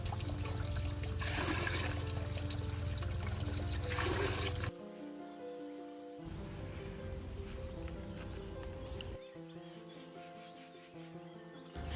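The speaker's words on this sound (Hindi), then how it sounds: "फिर डालो सारा पौधा के अंदर पानी" Water is poured from a container onto plants, a loud splashing gush that stops abruptly and gives way to quieter trickling and dribbling.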